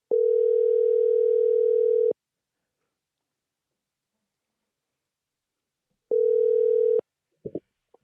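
A telephone ringback tone while calling someone: a loud steady two-second tone, a long silence, then a second ring that cuts off, followed by a few brief clicks as the call connects.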